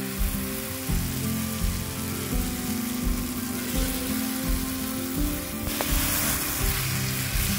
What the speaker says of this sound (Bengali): এবার ভালো করে আমি মাংসটাকে কষিয়ে নেব।